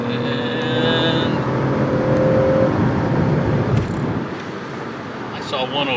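Lexus LS 500 with a 3.5-liter twin-turbo V6 in Sport Plus mode accelerating on a highway, a steady loud engine drone and road roar heard from inside the cabin, with people talking over it.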